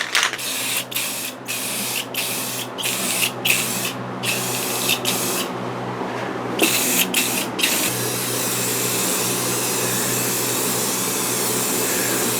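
A spray gun lays a heavier final coat of paint on a Mercedes-Benz W126 S-Class wheel: a loud, steady hiss broken by many short on-off bursts, then one long continuous spray.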